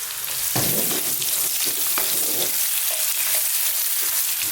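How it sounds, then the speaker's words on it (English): Sliced onions frying over above-average heat for a vegan sweet potato bean chili, a dense, loud, continuous sizzle with occasional stirring scrapes close by, no voices. "Now to that, I'm going to drop in some sliced onions"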